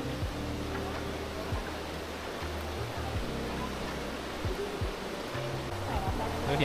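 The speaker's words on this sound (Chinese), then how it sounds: "这一条就是从山上流下来的泉水" A hot spring stream runs down from the mountain at a Japanese onsen area near Kusatsu, giving a constant close rushing and trickling of water throughout.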